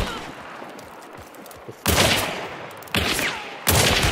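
Three loud gunshots in the Hunt: Showdown shooter game, spaced about a second apart, each a sharp broadband crack with a lingering tail, after a stretch of quiet ambient background.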